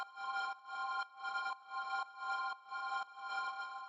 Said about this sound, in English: the next sound that we have here is this one, which I made with granulator